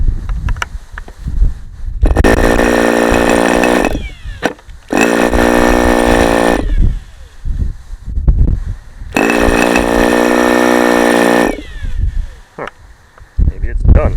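A small Fox 19BB model glow engine on a test run with an older idle bar plug, screaming loudly in three bursts with buzzy harmonic whine, separated by gaps with clattering noise.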